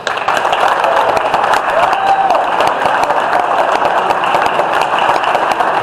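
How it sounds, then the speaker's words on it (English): A meeting audience gives a round of applause for first-time attendees, with dense, steady clapping filling the room at close range for the full length, a few voices mixed in beneath. "could you please rise so we can acknowledge you and give you a round of applause"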